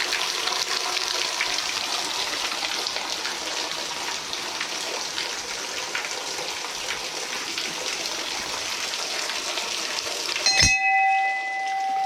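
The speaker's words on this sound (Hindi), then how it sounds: "एक साल भर इसमें पानी आता रहता है।" An old mountain spring in the hills of Chamoli, Uttarakhand trickles and splashes steadily close by, then cuts off abruptly near the end, with no one speaking.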